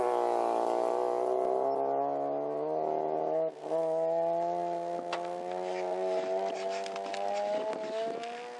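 A Mazda RX7 race car engine drones loudly and steadily throughout, its strong harmonic note climbing gradually in pitch as the car drives on, with no talking.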